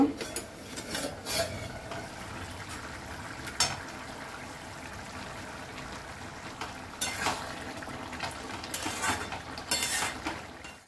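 A utensil stirring mutton keema with potatoes in a pan, soft scraping with scattered metallic clinks and knocks against the pan at irregular moments, close but fairly quiet over a low background hum.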